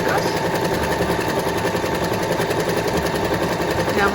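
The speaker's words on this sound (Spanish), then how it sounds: "vamos a coser a lo largo de nuestra tela con una puntada recta de más o menos 3 milímetros" A sewing machine runs a straight stitch of about 3 mm along fabric, its motor a steady loud continuous hum and rattle throughout with no pauses.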